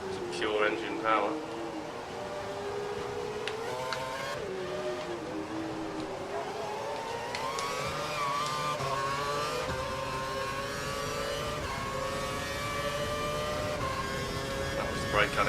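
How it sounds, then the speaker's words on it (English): A Formula 1 race car in F1 2012 accelerates through the Malaysia circuit, its high engine whine climbing and shifting in steady sweeps for the whole stretch, loud and continuous. "It's pure engine power."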